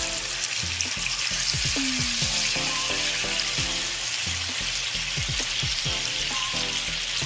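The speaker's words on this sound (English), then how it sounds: "it doesn't take long for salmon to go ahead and start really cooking down well" Salmon fillet searing in a hot pan, a steady loud sizzle of frying with repeated scraping and clinking of a utensil against the pan, close by with no voices.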